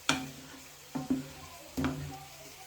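Prawns and vegetables being stir-fried in a pan, with four distinct clattering stirs and scrapes spaced across a couple of seconds over a faint, steady sizzle, close by and moderately quiet, with no talking.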